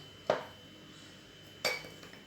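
A utensil clinks twice against a bowl, spaced over a second apart, while melted chocolate is mixed into an Oreo cheesecake mixture. A quiet background hum fills the gap between the two bright strikes.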